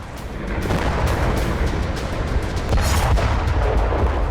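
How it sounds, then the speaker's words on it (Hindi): A loud, sustained rumble from an Israeli missile strike on a building in Sidon, Lebanon, roaring continuously with a heavier burst of blast noise near the end, with no voices. "ये मिसाइल सीधी एक इमारत से जा टकराई।"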